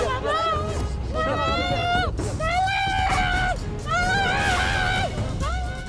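People scream and wail during a street raid on a busy crossroads at Sunter Agung, Tanjung Priok, North Jakarta, with repeated loud cries over street hubbub and traffic noise.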